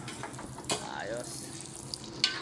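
Bicol express being cooked by friends in a pan, a steady low sizzle and stirring running the whole time, with a couple of sharp utensil clinks and a faint bit of background voice.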